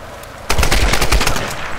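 Rapid automatic gunfire in the video game Tomb Raider bursts in abruptly, a loud, dense string of shots in quick succession after a quieter lead-in.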